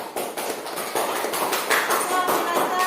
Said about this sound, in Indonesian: kasih aplaus buat kelompok retikulum